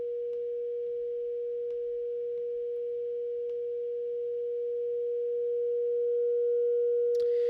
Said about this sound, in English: Now we're working with more of a traditional distortion device in that I can turn this drive up subtly, and we're going to start to add in some overtones and some harmonics.